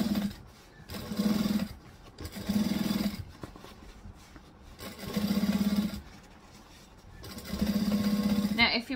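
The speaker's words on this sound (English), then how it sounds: "It's just one more reason why we should stitch it. Stitch, backstitch." A sewing machine stitching and backstitching a bag seam, running in several bursts of steady whirring lasting about a second each with pauses between, while a person talks over it.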